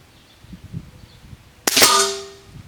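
A single sharp crack from an Air Venturi Avenger .25 caliber PCP air rifle firing a JSB pellet, close and loud, with a short ringing tail after a quiet outdoor lead-in.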